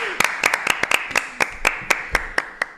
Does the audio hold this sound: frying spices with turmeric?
no